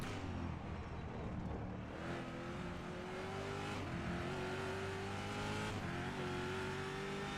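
Chevrolet Camaro GT3 race car in the rFactor 2 racing sim, its engine droning steadily and loud throughout, pitch climbing through gears with brief shifts and tire noise, no talking.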